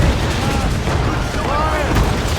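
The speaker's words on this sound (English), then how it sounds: "They are firing a volley! Enemies firing!" Enemy ships fire a cannon volley in a naval battle in Assassin's Creed Rogue: a dense, rumbling barrage of booms blending into continuous battle noise, with faint whistling shells overhead, loud and close throughout.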